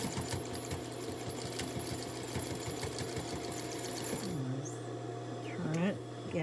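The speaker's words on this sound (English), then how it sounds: "And then I stitch right over my pleats." A sewing machine stitches across the folded pleats of a fabric face mask in a steady, rapid mechanical rhythm, loud and close, stopping near the end as a voice talks over it.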